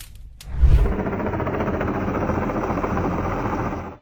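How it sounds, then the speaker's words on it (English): A helicopter's heavy rotor rumble swells in after a brief quiet moment and stays loud and steady overhead, flying low above a street in Key West, Florida. "he heard the loud sound of a helicopter"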